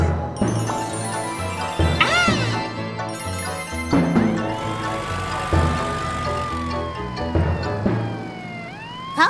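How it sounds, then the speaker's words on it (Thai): A cartoon police car siren wails in rising and falling sweeps over bright background music, loud and close, with a few quick sound effects mixed in. "มอฟเฟลเธอแปลงร่างเป็นรถตำรวจที่ขับได้เร็วมากมาก"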